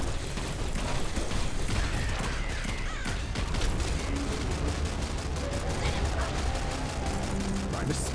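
Rapid, continuous weapon fire in the video game Nuclear Throne, a dense, loud stream of repeated shots with no pauses, layered over busy game effects.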